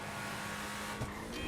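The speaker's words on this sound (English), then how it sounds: "I love the engine sound of this vehicle as well" Steady car engine drone from a vehicle in a driving video game, a continuous low hum with a brief rise near the end, fairly quiet and alone.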